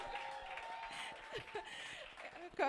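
An audience at an Ake Festival 2023 book chat applauds, the clapping soft and somewhat distant, with a voice and a light chuckle over it.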